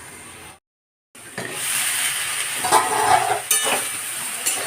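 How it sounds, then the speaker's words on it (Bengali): Young jackfruit frying in oil in a kadai while being stirred: after a brief silent gap, a loud, close, continuous sizzle with repeated scraping stir strokes and occasional louder bursts. "আর একবার একটু ঢাকা দিয়ে ভেজে নেব।"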